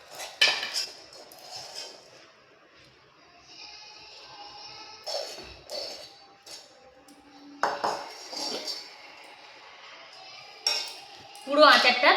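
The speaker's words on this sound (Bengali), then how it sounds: "এখন আমি একটা প্লেটের মধ্যে আচারটাকে সার্ভ করে নিচ্ছি।" Raw mango Kashmiri-style pickle being served onto a white plate with metal utensils, giving scattered close clinks and scrapes of spoon against plate, with faint background voice at times.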